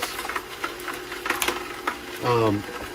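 Canoly C16 cold press juicer working larger pieces of fruit, a steady mechanical whir with crunching and clicks, rising into a louder grinding burst near the end.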